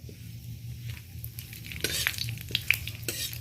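Panch phoron, dried red chilies and a torn bay leaf frying in hot oil, with a soft steady sizzle under occasional scrapes and clinks of a spoon stirring the pan, growing busier toward the end.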